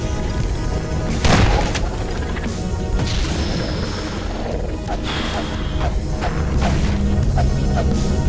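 Support beams holding up the core being destroyed in Nightmare House 2, a loud crash with booming impacts and mechanical clatter, followed by further scattered thuds and debris over a dense rumbling background.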